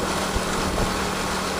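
An inexpensive motorcycle's small engine drones steadily and close on a rough, potholed road near Oslob, Cebu, with faint bumps in an otherwise even buzz.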